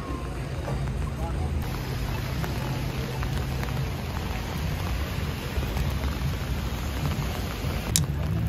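Steady rain falls on a New York city street, a dense, even hiss of drops with a low rumble of urban background running unbroken throughout, and no clear voices.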